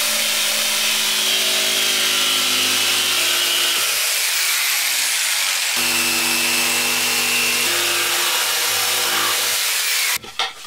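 Power tool cutting a wooden board for a home climbing training panel, a loud continuous whine with steady harmonics that pauses briefly midway, resumes, then stops with a few clunks at the end.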